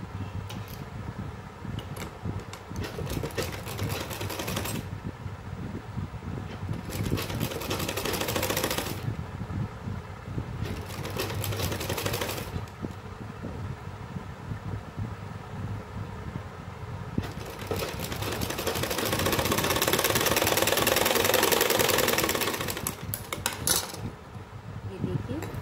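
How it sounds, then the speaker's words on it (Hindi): A sewing machine stitches blouse fabric on a buckram-stiffened front and back neck design, a steady rapid mechanical clatter that runs close and constant for the whole stretch, speeding up and growing louder near the end. "यहाँ पर हमको धीरे धीरे सिलाई लगानी है।"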